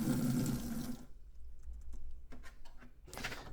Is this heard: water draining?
yes